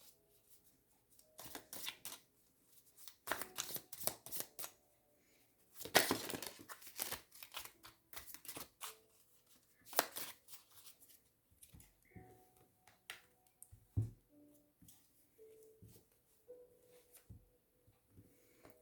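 A large deck of leaf fortune cards is shuffled by hand, close up and soft. Irregular papery riffles, slides and crinkles come in clusters with short pauses, and no one speaks.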